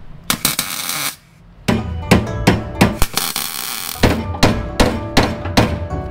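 Close, loud ball peen hammer blows clang on a metal piece being shaped, in quick irregular bursts, with a brief pause early on before the striking resumes.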